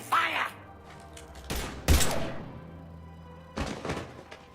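Gunfire in the Mass Effect 3 video game at the Citadel: several sharp, loud bursts of shots spread across the stretch, each with a short echoing tail between quieter gaps.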